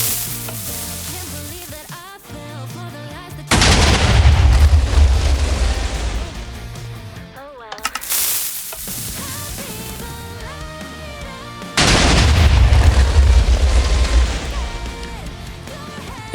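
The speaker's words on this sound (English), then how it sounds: "I think TNT did blow up." TNT blocks exploding in Minecraft, two loud rumbling blasts several seconds apart, each bursting in suddenly and crackling away over a few seconds, with game music and clicks in the quieter gaps.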